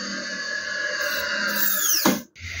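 A small wooden ball is drilled with a 2.5 mm bit, giving a loud, steady high-pitched whine that winds down with a falling pitch near the end and then cuts off briefly.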